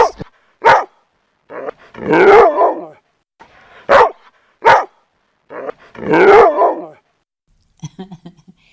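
A dog barks in sharp bursts, single yaps mixed with longer rough barking volleys, loud and close, with short quiet gaps between them.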